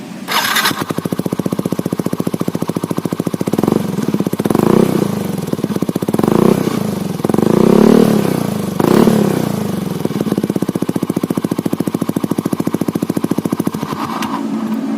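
A Yamaha N-Max scooter fitted with a Himaxco racing exhaust idles with a rattling, close-up engine note, then blips its throttle in several loud revs midway through before settling back to a steady idle.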